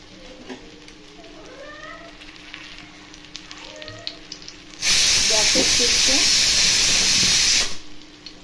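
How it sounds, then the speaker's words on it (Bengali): Sliced bitter gourd drops into hot oil on a flat tawa, bursting into loud, steady sizzling and frying that lasts about three seconds before cutting out, with quieter kitchen sounds around it. "এরপরে উচ্ছেটাকে আমি এই চাটুর মধ্যে দিয়ে দিলাম।"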